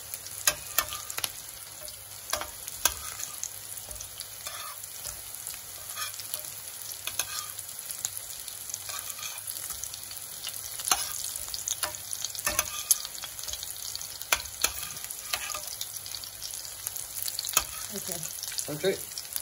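Fish cakes fry in a pan with a steady, soft sizzle and crackle throughout, dotted with sharper spits and pops, and no talking over it.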